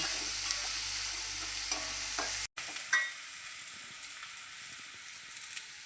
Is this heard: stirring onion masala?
yes